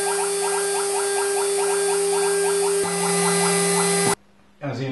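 A 2.5 kW ATC Chinese CNC spindle whines at very high RPM, a loud steady tonal scream with a pulsing pattern that holds for about four seconds before cutting off abruptly, followed by a brief quieter hum.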